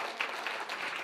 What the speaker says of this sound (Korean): 우리 감사의 박수 한번 할까 주님께?